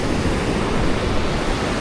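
Sea surf pounding the shore after Typhoon Inday, a dense continuous roar of breaking waves with no pauses, loud and close.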